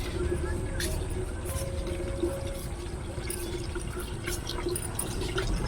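Tap water running steadily into a container, a continuous rushing flow heard close by, with voices talking faintly in the background.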